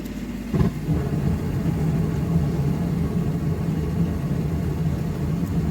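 Newly replaced furnace draft inducer motor running steadily, a low, even hum with faint mechanical rumble and a small bump near the start, otherwise smooth and unchanging.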